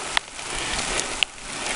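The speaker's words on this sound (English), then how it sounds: "as you can see, it's raining" Rain falling on a foggy mountain trail, a steady broadband patter with a couple of sharper drops hitting close by, with no talk.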